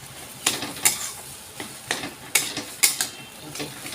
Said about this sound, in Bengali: সিদ্ধ করা আলুটা ভাজা মশলার সাথে দিয়ে দিলাম।